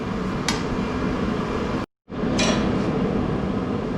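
A minibike rear suspension part bent in a vise in a workshop, with loud continuous grinding noise, a couple of sharp metallic clanks, and a brief dropout midway.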